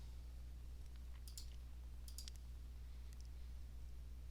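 Computer mouse clicks, a few faint crisp taps in small clusters over a quiet steady background hum.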